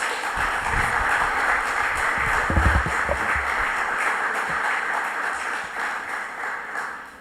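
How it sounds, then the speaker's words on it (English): Steady, sustained applause from an audience at a ceremony honouring Dr Randolph Bourne and the late Mrs Presteen Sobers Elli, a dense even patter of clapping that holds for the whole stretch and fades slightly at the end. "I really think that they deserve a big round of applause for their efforts"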